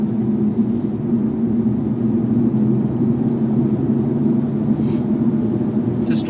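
A car cruising at about 50 mph on a wooded road from home to Wallingford, heard from inside as a steady, loud low rumble and road drone, unbroken throughout.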